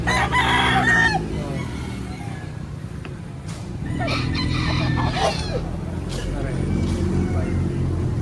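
A rooster crows amid a busy outdoor gamefowl market in Lipa, Batangas, with people talking nearby and other birds and background noise throughout.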